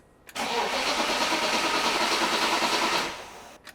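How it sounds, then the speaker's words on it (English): A BMW E36 328i engine cranks steadily for about three seconds without catching, a rapid rhythmic churning whir, close and loud, then stops. "now we're gonna crank the engine over to build up oil pressure"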